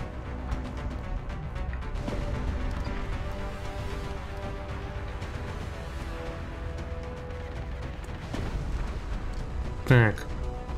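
Gunfire in the turn-based strategy game XCOM: Long War, a sharp burst near the end over a steady in-game backdrop.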